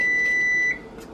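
An oven chimes that it has finished preheating, a single sustained electronic beep that holds steady, then cuts off, heard close in a quiet kitchen with no talking.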